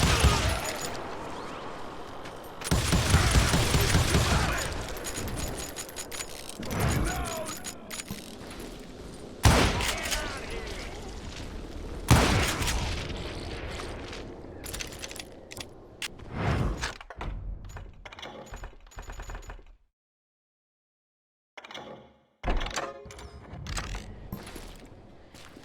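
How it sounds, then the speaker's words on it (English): Gatling gun fire in the Western shooter Call of Juarez Gunslinger, long loud bursts of rapid shots mixed with mechanical clatter and thuds, then scattered impacts, a brief silence, and a few final shots. "Kid Curry opened up on me with a goddamn Gatling gun"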